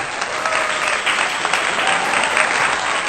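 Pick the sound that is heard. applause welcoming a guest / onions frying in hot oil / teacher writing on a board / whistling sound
applause welcoming a guest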